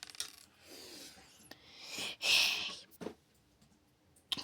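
Brown LEGO bricks are handled up close, with rustling, scraping and clattering plastic in short bursts, the loudest in the middle, ending in a sharp click.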